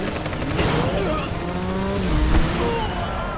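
Motorcycle chase in the video game Final Fantasy VII Remake: roaring engines and squealing tires mixed with rapid gunfire bursts, loud and continuous throughout.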